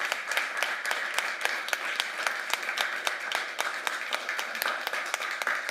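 Audience applause closing a food systems panel at the Nordic Pavilion during COP28; a modest crowd claps in a brisk, fairly even patter with distinct individual claps standing out, sustained throughout.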